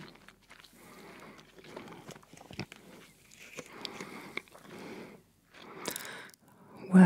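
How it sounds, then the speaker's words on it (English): Gum being chewed with occasional bubble pops, close-up in an ASMR setting: soft wet smacking and mouth clicks in irregular bursts, with a louder pop near the end and brief pauses between. "gum chewing with bubbles"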